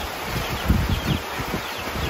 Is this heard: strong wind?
yes